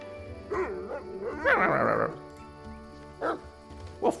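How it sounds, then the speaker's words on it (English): A dog in the video game Pathfinder Kingmaker gives a few short barks and yips at irregular intervals, with a voice talking over parts of it. "Oh look, a doggy."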